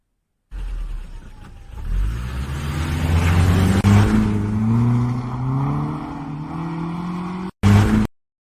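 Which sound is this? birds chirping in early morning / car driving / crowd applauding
car driving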